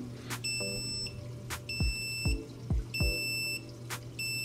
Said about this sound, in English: red light is beeping, and that indicates something's wrong